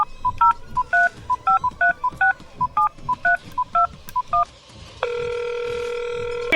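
A touch-tone telephone dials a candy company, with a quick run of about fifteen paired beeps at an uneven pace, then a steady ringback tone.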